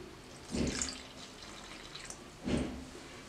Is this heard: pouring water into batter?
yes